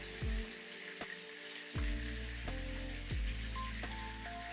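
Cut bacon pieces frying in a pan, giving a soft steady sizzle broken by a few low thumps and clatters of handling, with no talk.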